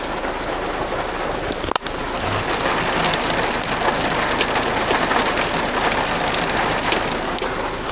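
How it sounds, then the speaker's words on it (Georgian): Heavy rain pours steadily on a street in Brooklyn, New York, a dense, loud, continuous hiss with one brief sharp knock near the two-second mark and no talking. "ნახეთ როგორ წვიმს."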